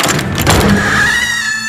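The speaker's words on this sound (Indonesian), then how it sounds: "Pintu utama berderit saat dibuka" A hospital's main door creaks open with a drawn-out, rising squeal that follows a dull thunk, close and fairly loud in a quiet, eerie space.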